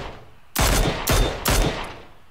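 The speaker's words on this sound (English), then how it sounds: "So I see this guy and I start taking shots." Three loud, close bursts of Mini 14 rifle fire in the video game PUBG, evenly spaced about half a second apart, each a sharp crack with a short decaying tail over quiet background.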